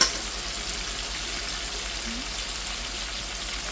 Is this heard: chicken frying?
yes